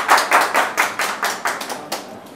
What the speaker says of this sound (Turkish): Alkışlıyorum abi.